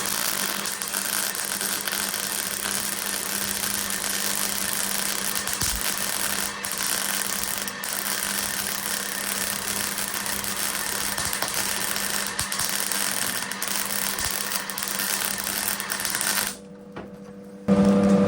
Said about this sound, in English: so I'm gonna try and weld up there.